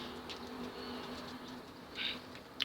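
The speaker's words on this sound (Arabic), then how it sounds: "هذا الطير الاباتشي" An Iraqi blue pigeon coos softly against a quiet background, with a faint brief chirp near the end.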